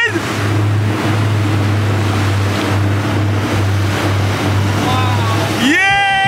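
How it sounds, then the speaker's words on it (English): A jet ski engine revs steadily on the sea in the Maldives, a continuous loud drone mixed with water rush. A whine rises sharply near the end. "First time on a jet ski."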